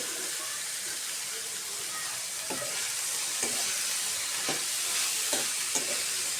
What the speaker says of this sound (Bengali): ভালো করে নেড়ে নেব পেঁয়াজের কলি